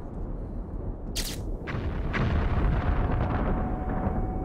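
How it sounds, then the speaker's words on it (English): A missile explosion in the Metro Last Light video game hits with a sharp burst, then rolls into a sustained, loud rumbling roar. "An explosion."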